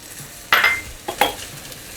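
Peas and grated coconut with coriander stirred in a pan for masale bhat, a spatula scraping and clinking against the metal in two short bursts over faint background sizzle.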